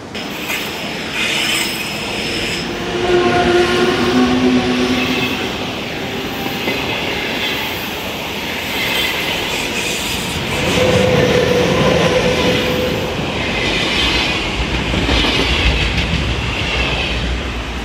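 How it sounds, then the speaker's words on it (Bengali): A train in Switzerland rumbles past with a steady roar and squealing wheels, swelling louder midway and staying loud as the cars roll by. "ট্রেনের কথা বলতে বলতেই ট্রেন এলো, ট্রেন চলেও গেল"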